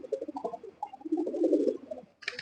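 A silver pigeon, the main breeding hen of a racing loft, coos in soft low rolling phrases close by. A brief brighter noise cuts in at the very end.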